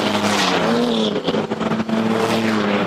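Race trucks roar around a track, engines droning loud and continuous with rising and falling pitch as they pass close by, a brief rattling burst in the middle.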